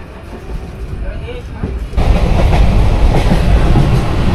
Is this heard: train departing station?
yes